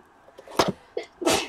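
A sharp, explosive sneeze bursts out near the end, preceded by a few softer sniffs and short noises, close and fairly loud.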